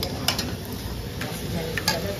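Mutton frying in rendered fat and oil, stirred in the pan with a ladle; a steady sizzle runs throughout, broken by repeated scraping stirs, close up with no talk.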